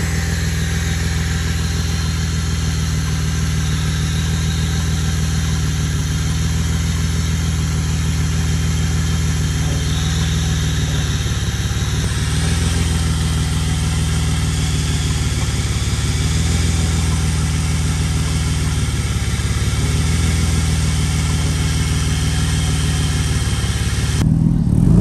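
A Citroën 2CV without power steering idles steadily close by, with a continuous low throbbing engine hum and vibration that swells slightly at the very end.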